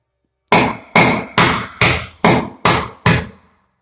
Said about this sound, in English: go ahead and break that out with a hammer